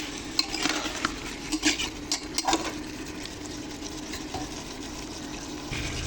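Tomatoes with a splash of water are stirred in a pan for a Sohila pata fish buna curry, with close scraping and clattering strokes over a soft, continuous simmer.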